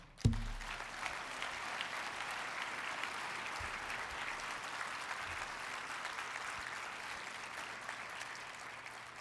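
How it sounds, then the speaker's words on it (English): An audience at a civic event breaks into applause honoring Gord Downie, the clapping starting abruptly, then holding as a dense, even roar of many hands with no talk over it. "let's give a round of applause for a life well lived, Gord Downie"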